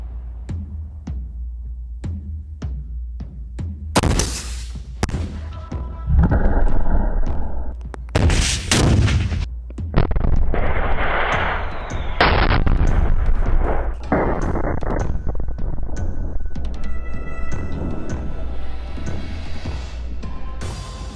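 82mm mortar mines fired from an RPG-7 at a car and a tank: several loud, sharp blasts and booms spaced seconds apart, some with rumbling tails, heard outdoors without talk.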